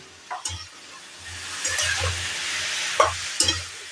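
Stirring a fish head and cabbage curry with fried potatoes in a pan, a soft steady sizzle broken by several distinct scraping knocks of the spoon against the pot, close up with no talking.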